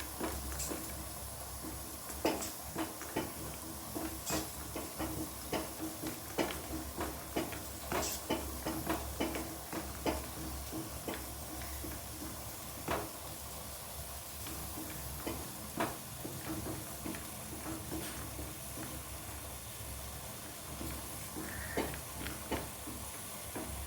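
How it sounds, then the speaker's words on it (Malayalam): Cashew nuts roasting in a pan for coriander chutney, a soft hiss with scattered quiet crackles and ticks popping irregularly throughout. "ഒരു 5-6 കശുവണ്ടി കൂടി വറുത്ത് ചേർക്കാം."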